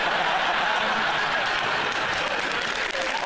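Studio audience applauding on a comedy panel show, a loud, dense burst of clapping mixed with scattered chuckles that fills the whole moment.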